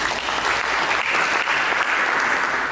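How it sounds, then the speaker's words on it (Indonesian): A church congregation applauds in a dense, continuous wash of clapping, full and even throughout, with no voices standing out. "Berikan tepuk tangan bagi kita."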